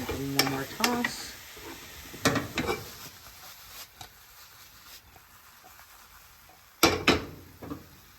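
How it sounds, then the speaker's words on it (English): Sharp stirring and tossing clatters as Princess Pearl mushrooms fry in a pan over a soft, steady sizzle, with bursts near the start and end and quieter frying between. "I want to hear a nice even sizzle"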